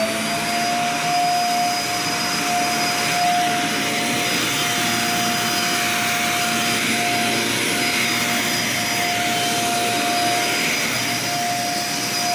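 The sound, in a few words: Dyson DC50 vacuum cleaner running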